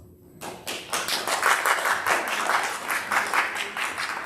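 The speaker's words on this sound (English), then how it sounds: "Please give the candidates a round of applause." Audience applause at a school ASB student government debate, starting after a brief pause and building into steady, moderately loud clapping from a room of students that holds through to the end.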